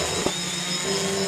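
A Gaui 540H heavy-lift RC helicopter hovering at just over half throttle, a steady close rotor and motor drone with a high whine, continuous and alone.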